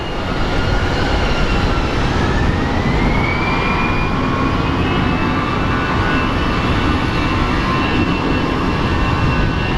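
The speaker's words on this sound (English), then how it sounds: "Mesa Airlines and our business jet are taxiing at the same time" A Mesa Airlines jet and a business jet taxi at Phoenix Sky Harbor airport, a loud, continuous engine roar with a slowly rising whine throughout, close and steady.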